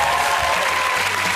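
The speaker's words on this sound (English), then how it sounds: "Give him a round of applause." Dense, steady applause from a television studio audience on a British chat show, with a low musical tone running underneath the continuous clapping.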